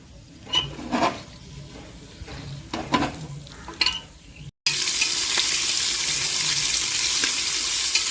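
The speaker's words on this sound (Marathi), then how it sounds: "कांदा आणि हिरवी मिरची पण टाकली कुकरमध्ये. आपण छान परतून घेऊया." Stirring clinks and scrapes in a pressure cooker, then a loud, steady sizzle as onion and green chilli hit hot oil with whole spices and keep frying close up.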